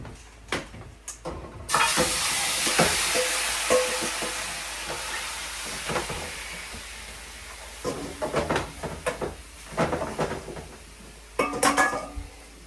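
Seasoned oxtail, coated with garlic powder, onion powder and all-purpose seasoning, goes into a pot on the stove, with a loud burst of sizzling followed by clanks of metal on the pot and intermittent stirring.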